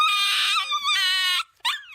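A puppy gives high, strained yelping barks indoors, two drawn-out cries followed by a short pause and another sharp yip, close and fairly loud.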